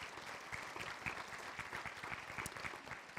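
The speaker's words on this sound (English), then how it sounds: "I want to give them a big applause because you guys were awesome today" Applause for volunteer ambassadors at a chamber forum fills the room, a steady, dense patter of many hands held at a constant moderate level throughout.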